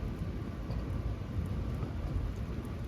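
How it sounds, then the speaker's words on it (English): Steady rain with a low thunderstorm rumble as an isolated storm rolls in, a dense, continuous wash of noise throughout with no voices. "we got a thunderstorm coming our way."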